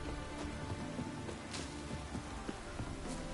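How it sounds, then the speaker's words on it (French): Steady rainfall in The Witcher 3: Wild Hunt video game, with scattered drops pattering on a surface, a constant soft wash of sound with no voices. "Mais il pleut."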